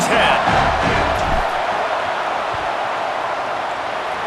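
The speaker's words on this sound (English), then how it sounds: "This crowd trying to do its part to get inside the kicker's head." A packed stadium crowd roars steadily in a college football video game, Sacramento State playing at LSU, as a dense, loud wash of noise that stays constant throughout, with a commentator's voice faintly under it.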